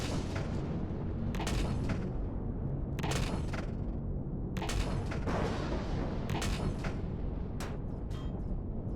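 A hostile turret in Empyrion Galactic Survival fires on the player's ship, loud repeated bursts of gunfire and booms arriving in irregular volleys over a continuous low rumble.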